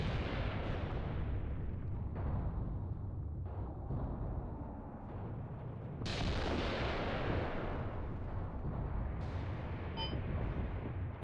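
Artillery-like booms and gunfire from 50 millimeter guns in a battle, alongside machine-gun fire, roll continuously through the scene, dense and loud with repeated heavy blasts and no talking.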